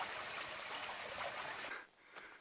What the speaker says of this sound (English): There's a little river here flowing into the caves